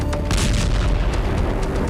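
A loud blast at a chemical warehouse fire in Balashikha, Moscow: a dense, booming, rumbling roar with sharp cracks, sustained and close throughout, with no voices.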